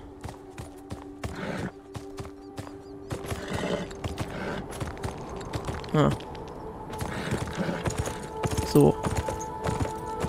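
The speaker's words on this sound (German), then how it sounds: "setzen wir uns auf unser Pferd und reiten mal da" Horse hooves clip-clopping steadily while riding in the video game Beyond Two Souls, a continuous rhythmic trot with a couple of louder thumps, under a game soundscape and a brief spoken word.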